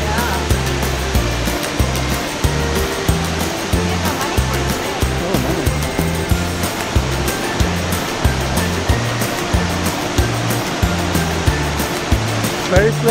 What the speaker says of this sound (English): Oh, look at that waterfall over there.